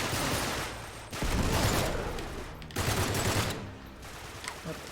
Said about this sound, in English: Okay, shooting here.